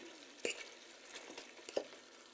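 Carrots, onions and other vegetables for chicken chow mein sizzle quietly in a pan, with a couple of brief clattering stir strokes and crackles over a faint frying hiss.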